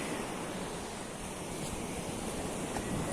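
Steady sea surf washes in at a beach that is kept clean, a continuous low rushing roar with faint wind noise on the microphone. The sound stays constant and fairly quiet with no voices.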